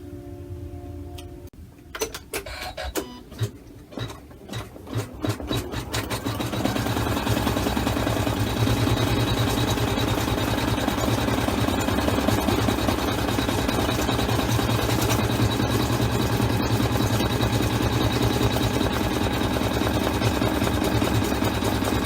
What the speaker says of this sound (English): So I'm going to start the machine. It's going to sew the eyelets